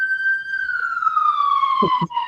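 A wailing ambulance siren sweeps steadily downward in pitch as the vehicle passes nearby, loud and continuous, with brief low thumps and a short break near the end.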